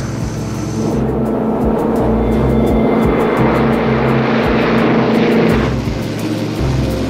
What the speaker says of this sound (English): TWA-2 cleared for takeoff on runway 25 right.